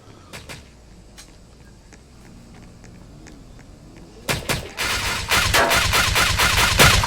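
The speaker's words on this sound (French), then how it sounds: "Fais gaffe, ça tire." Gunshots during a police patrol hostage standoff, starting with a few sharp cracks and then turning into a dense, loud volley of rapid shots in the second half, with no talking.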